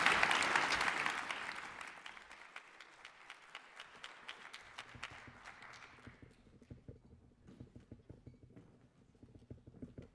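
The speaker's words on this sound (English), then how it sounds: "Please join me in a round of applause." Conference audience applauding a panel on war, loud dense clapping at the start that thins out over several seconds into scattered, sparse claps with quieter gaps.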